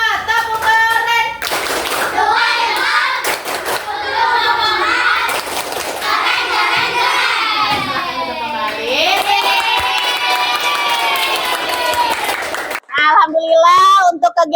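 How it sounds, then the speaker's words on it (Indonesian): A primary school class claps a rhythmic 'tepuk keren' cheer, sharp group hand claps in patterned bursts mixed with children's chanting voices and a teacher speaking. "Tepuk keren untuk kelompok 4."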